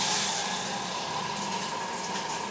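Water from a hotel bathroom shower head pours steadily in a constant broad hiss. It is close and fairly loud, with no voices over it.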